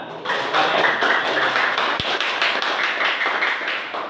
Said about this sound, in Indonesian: tepuk tangan untuk semuanya dong, semua